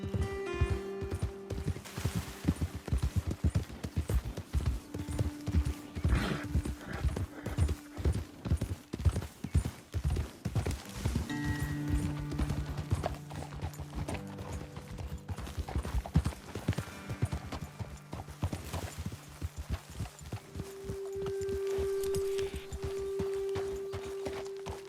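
Horse hooves clip-clop in Red Dead Redemption 2, a steady, close, rhythmic beat that runs throughout under game music and ambient sound.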